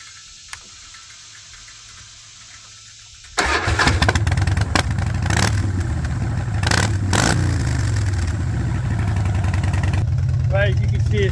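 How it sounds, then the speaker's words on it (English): A 2009 Harley-Davidson Rocker C motorcycle cranks and fires up, then settles into a loud, rumbling idle through its exhaust that continues close by for several seconds, with brief talk before it starts. "let me get this ignition turned on and I'll let you hear the exhaust"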